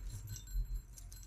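Metal keys hanging on a keychain from a collection of old keys jangle briefly with a few light clinks and chinks, close by and fairly quiet.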